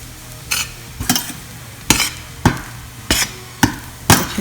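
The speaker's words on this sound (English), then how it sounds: "So I'm going to fry this." Bati surma being fried in clarified butter over a low flame, heard as regular stirring strokes that scrape and clatter against the pan about every half second, close and fairly loud over a faint background hiss, without speech.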